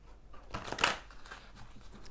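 Tarot and oracle card decks being shuffled by hand, a short burst of papery riffling and flicking peaking mid-clip, close and fairly soft, with faint rustle around it and no talk.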